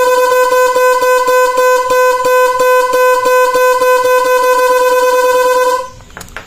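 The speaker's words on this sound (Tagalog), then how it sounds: "loud horn or dual horn po ang tutunog" A loud, continuous motorcycle dual horn blares steadily for several seconds with a rapid pulsing warble from an interrupter relay, then cuts off abruptly.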